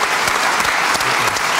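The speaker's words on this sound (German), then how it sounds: "Auch das, finde ich, hat einen Applaus." An audience applauds during a German evening talk-show, steady dense clapping throughout at close, even loudness with no voices over it.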